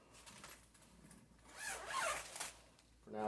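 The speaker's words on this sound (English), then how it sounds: "it zips into here" A zipper closes a compartment on a Briggs and Riley Baseline International carry-on spinner bag, a quick close rasping pull with soft handling rustles around it and no talk.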